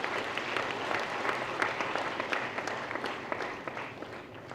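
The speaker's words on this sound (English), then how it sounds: "deserve a big round of applause for making this" An audience claps at a technology entrepreneurship program launch at ISB, a steady, moderately loud wash of applause lasting the whole stretch with no voices over it.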